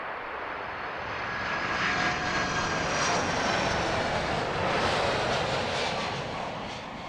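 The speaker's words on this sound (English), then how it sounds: "Delta 767, proudly sporting the breast cancer special livery." A Delta Boeing 767 jet roars past at Heathrow Airport, a broad, sustained engine rush that swells and then slowly fades over about seven seconds, with no talking.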